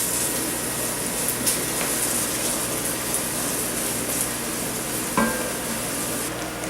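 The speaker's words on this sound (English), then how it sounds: "going to let these kind of spices just cook for a couple of minutes and really render all those flavors" Spices frying in a pan for venison vindaloo give a steady, close sizzle with faint stirring scrapes and a brief clink near the end, with no voices.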